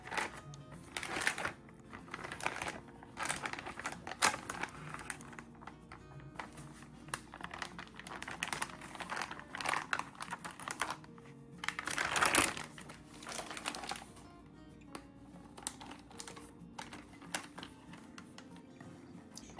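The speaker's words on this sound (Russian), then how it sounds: "Укладываем мясо в специальные пакеты." Marinated beef is packed into plastic sous-vide bags, giving a run of close, irregular crinkling and rustling of plastic with soft handling bumps and one louder crunch partway through.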